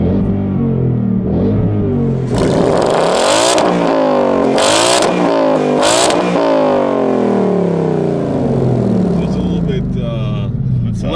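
A 2018 Ford Mustang 5.0 V8 with its exhaust in aggressive mode revs hard several times, each sharp blip rising and falling, loud and close, with the deep rumble settling back between revs.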